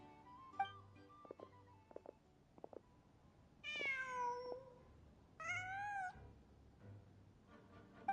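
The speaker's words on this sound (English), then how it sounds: "Just a cat. Nothing else here." A cat in the video game Genshin Impact gives several distinct meows, two long drawn-out calls standing out among shorter chirps, over a quiet low background with no speech.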